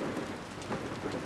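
Heavy rain pouring down at night with rumbling thunder, a dense, continuous hiss of rainfall overlaid by low, rolling rumbles.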